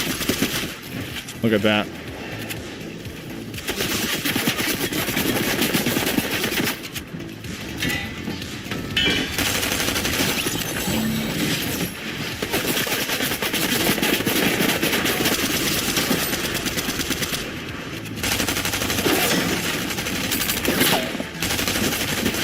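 Rapid bursts of automatic gunfire from an opponent in an online shooter game rattle repeatedly, loud and close, with brief pauses between volleys while a player talks over the action.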